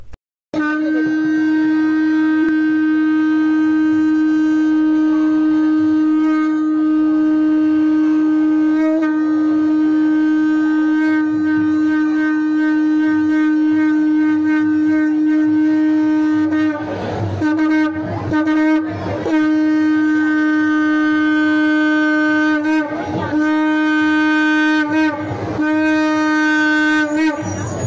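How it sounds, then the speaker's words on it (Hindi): A conch shell (shankh) blown at a grave gives a loud, sustained horn-like drone that holds steadily for a long stretch, then breaks into several shorter blasts near the end. "इसे जो आवाज निकल रही है वो शंख की आवाज है"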